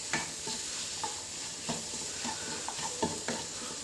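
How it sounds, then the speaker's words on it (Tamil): A spatula stirs and scrapes egg masala in a nonstick pan while it fries with a steady low sizzle, with repeated clinks and scrapes at an irregular pace. "அந்த மசாலா வாசம்லாம் போகிற அளவுக்கு வணக்கிக்கோங்க"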